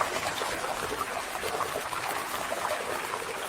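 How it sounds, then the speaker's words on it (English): AI-generated audio of water rushing down a stream and pouring, a steady, even wash of broadband splashing that holds without pause, with no voices. "the prompt for this one is water is rushing down the stream and pouring"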